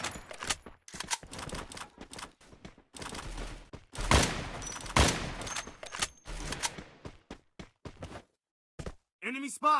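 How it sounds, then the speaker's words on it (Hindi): Gunfire in the Free Fire mobile battle royale game comes in rapid bursts of shots, some short volleys and a denser fusillade in the middle, with gaps of silence and a brief synthetic tone at the end. "मैं उस पर फायर करता हूँ पर वो बच के निकल जाता है"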